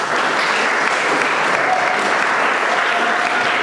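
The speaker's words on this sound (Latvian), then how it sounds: "Aplausi." Steady, dense applause from an audience at a Latvian Miss and Mister contest stage show, filling the whole stretch evenly without letting up, as a performer named Nora is welcomed to the stage.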